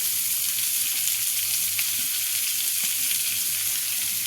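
Sliced onions sizzle steadily in hot oil with fennel seeds and cumin in a pan, a continuous close frying hiss with faint stirring, no voices.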